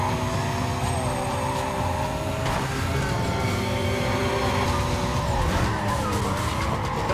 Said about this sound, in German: Wie der dann um die Kurve rutscht kommt.